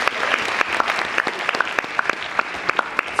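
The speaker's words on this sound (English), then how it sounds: "I think she deserves a round of applause." An audience at a university forum gives a round of applause, a sustained dense patter of many clapping hands with a few sharper, closer claps standing out.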